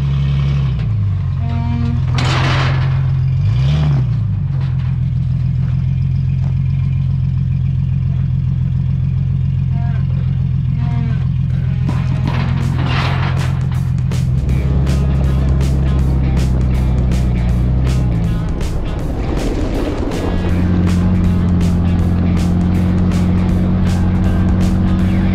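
A Jeep rolls along a bumpy Nevada desert trail, its mid-range engine droning steadily up close while the cabin rattles and thumps over rough ground, with brief voices and shifting engine pitch throughout.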